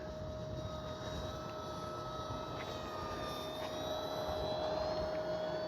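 An FMS 1500mm Skylane radio-controlled model airplane flies nearby in a crosswind, its engine droning continuously throughout, with no voices.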